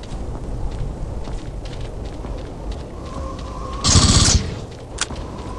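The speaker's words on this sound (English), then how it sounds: "I love the sound of that rifle." Rifle fire from the Aliens vs Predator 2 video game: one loud, sharp burst stands out above a steady rumbling background, with a brief fainter crack just after it.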